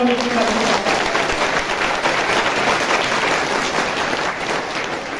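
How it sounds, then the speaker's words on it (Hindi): Church congregation gives loud, sustained applause during a Hindi sermon, a thick continuous roar of many clapping hands filling the space, with a faint voice briefly at the start. "जोरदार ताली बजा के"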